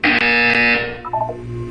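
A loud electronic buzzer from the video game Portal 2 blares for under a second, then drops into a short descending electronic tone tail.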